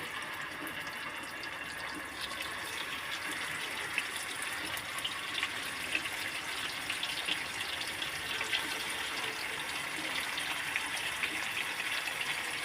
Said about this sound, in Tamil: ஆயில் சூடாகிடுச்சு. மீனை போட்டுடலாம்.